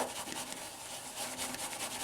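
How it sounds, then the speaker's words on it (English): A shaving brush being swirled rapidly in a shaving bowl to build lather, making a continuous close, wet, brushy rubbing sound with a quick pulsing rhythm, with no other sounds. "I'm going to rapidly make the lather"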